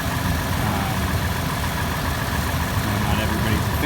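Engine of a 2016 Toyota 4Runner idling, a steady, even rumble heard up close from the engine bay with no change in pitch throughout.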